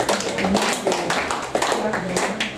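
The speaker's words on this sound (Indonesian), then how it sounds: "boleh kita tepuk tangan coba" A church group claps hands in a steady rhythm while voices sing a worship song over it, close and lively.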